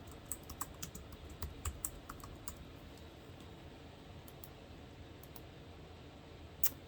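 Faint keyboard typing, a scatter of soft irregular key clicks through a quiet room, with one slightly louder tap near the end and no voices.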